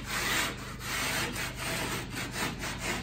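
Hand rasp filing the edge of a sheetrock panel, with repeated rhythmic scraping strokes, close and fairly loud, alone without talk.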